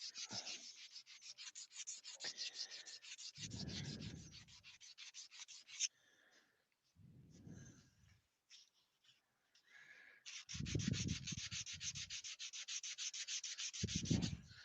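Rhythmic scratchy rasping of hand sanding wood in steady back-and-forth strokes, pausing briefly midway before resuming, with occasional low thumps.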